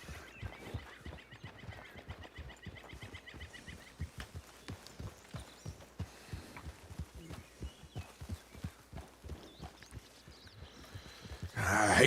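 A horse's hooves clip-clop steadily on a road in the RanchRP game, a brisk regular rhythm of close, moderately loud hoof strikes that continues throughout without talk, ending in a burst of louder noise.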